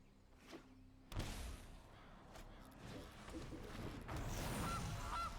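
A goose honks in the Magic Arena card game during a Historic match, a few synthetic cackling calls rising over quiet game audio after a thump.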